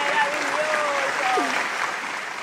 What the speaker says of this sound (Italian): Applausi per Fabio Cannavaro.